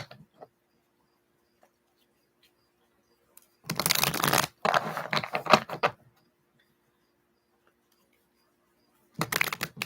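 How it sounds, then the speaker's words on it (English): Cards are riffled and shuffled in two quick bursts, close by, followed by a brief pause and another short riffle; otherwise quiet. "Just shuffling, seeing what's coming through."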